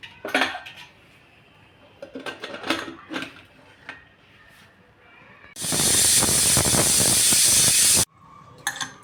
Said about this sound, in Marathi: कुकरची वाफ आता निघालेली आहे